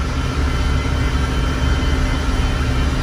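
John Deere 6300 tractor engine running steadily near a crawfish pond, a continuous low diesel rumble with a constant harmonic hum, loud and unbroken with no talk.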